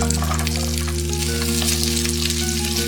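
Raisins and sliced carrots roast in hot ghee in a pan, giving a steady, close, continuous sizzle and crackle throughout with no voices.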